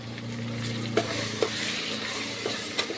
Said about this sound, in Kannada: ಈಗ ಹೈ ಫ್ಲೇಮ್ದಾಗ ಈಗ ಒಂದು ಎರಡು ನಿಮಿಷದಾಗ ಚಂದ ಫ್ರೈ ಮಾಡ್ಕೊಂಬ್ರಿ